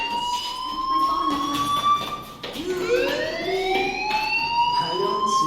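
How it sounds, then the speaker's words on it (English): A rising and falling electronic fire alarm in the video game Life is Strange wails continuously, loud and sustained, its pitch sweeping up again midway with no talking. "do you hear that fire alarm?"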